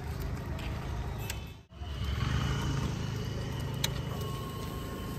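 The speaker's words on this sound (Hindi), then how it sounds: "अब आपको सुनाता हूँ एग्जॉस्ट की आवाज़" Motorcycle exhaust rumbling up close, a loud continuous low engine roar with a brief dropout partway through before it resumes steadily.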